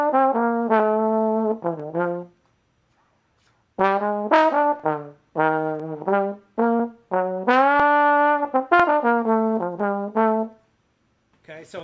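Trombone plays a big-band ensemble melody originally voiced for third trumpet, a series of clear sustained and detached phrases with short breaths between, loud and alone without talk.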